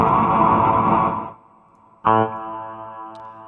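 A chord rings out and fades into a dark, low reverb tail from FL Studio 12 reverb with a high cut, then a second chord is struck and sustains with a murky, washed-out ambience.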